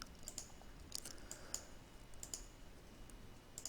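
Quick, light clicks of a computer keyboard and mouse while entering working hours in Microsoft Project 2013, irregular taps close and clear over a quiet room background.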